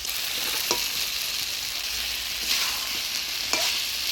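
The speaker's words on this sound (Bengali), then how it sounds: "ভাজা রাখা আলু দিয়ে মশলার সাথে নাড়াচাড়া করে নিলাম, এবার ভাজা মাছটাও দিয়ে দেবো।" Fried rita fish and fried potatoes are stirred into spices in a hot pan, giving a steady close sizzle with a few sharp scraping clicks from a spatula.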